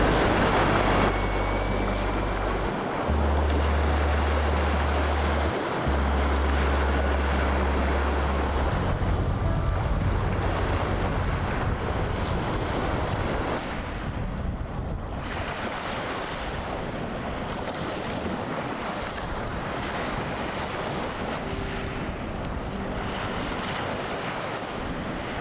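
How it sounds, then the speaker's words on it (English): Waves breaking on the Lake Superior shoreline, a steady loud surf wash with gusting wind buffeting the microphone and low rumbles in the opening seconds. "The waves are getting pretty big."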